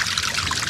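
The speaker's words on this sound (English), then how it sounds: "I'm going to put some water in the tub." Water pours and trickles steadily into an outdoor hot tub at an off-grid cabin, a brief, close, continuous splashing stream with no voices.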